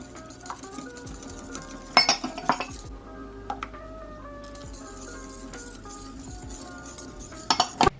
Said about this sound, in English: Mix them all very well, and then gradually mix in evaporated milk.